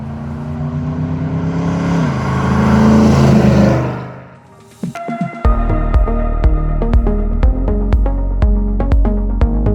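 A GM 6.2-litre LS3 V8 with six-speed automatic in a restored 1991 Land Rover Defender 110, a loud rising rev that drops away, then a steady deep idle with sharp clicks and pulses, close and without speech.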